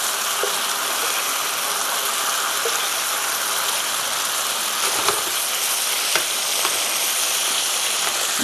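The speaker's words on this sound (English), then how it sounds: "That's a good sizzle." Salmon fillets sizzle loudly in a hot pan, a dense, continuous crackling hiss with occasional sharper pops, close and steady throughout.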